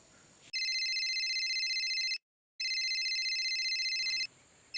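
A mobile phone rings with a bright electronic tone in two long bursts split by a short gap, loud and close against a quiet room.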